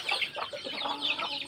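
Native chickens clucking at feeding time on a farm, a close, busy cluster of soft overlapping clucks and chatter over a few seconds.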